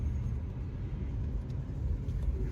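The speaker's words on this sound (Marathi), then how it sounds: "आता इथे ट्रॅफिक भरपूर लागलंय" Heavy road traffic with cars on the Nashik road near Bhiwandi makes a continuous low rumble, steady and fairly close, with no talk.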